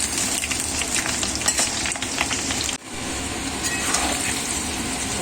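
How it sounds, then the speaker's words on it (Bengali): Onion frying in hot oil in a home kitchen pan, a steady dense sizzle with crackling spatters, loud and close, briefly dipping for a moment before resuming. "পেঁয়াজটাকে ভালো করে একটু ভেজে নেবো"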